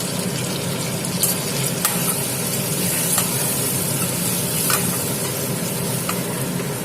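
Eggs fry in a hot pan with a steady, close sizzle while a utensil stirs and scrapes them in repeated clicks and taps, with no talking.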